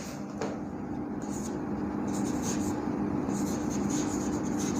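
Marker or chalk scratches across a classroom board in short, continuous strokes as a chemistry teacher writes a heading. The scratching is faint and sits over steady room hum.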